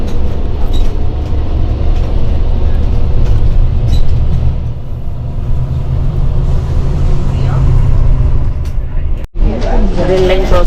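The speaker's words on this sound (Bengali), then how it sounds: "এটা আবার নতুন লাইন, নতুন রাস্তা, সরু গলি দিয়ে যাচ্ছে বাসটা।" A bus on line 123 threads a narrow lane in Grindelwald, Switzerland, its engine a steady, loud rumble heard from inside the cabin, with a voice talking over it and a brief drop near the end.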